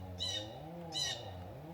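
Two brief high bird calls ring out about a second apart, faint and over a steady low hum, with no voices around them.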